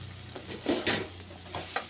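Dried fish is stirred into a pan with onion and garlic and sizzles faintly. Soft scraping and crackles come in brief bursts close by, with no voices.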